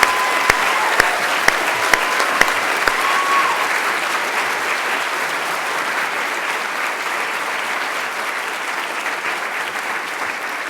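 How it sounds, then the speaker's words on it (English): An audience at a medical school white coat ceremony applauds a college group of students, with sustained, even clapping from a large crowd throughout, punctuated by a few sharp, close claps near the start. "A round of applause for the Ochsner College."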